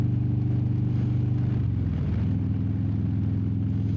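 Motorcycle with an aftermarket exhaust, idling and revving in a steady, loud, throbbing drone, with a brief pitch dip and rise near the middle.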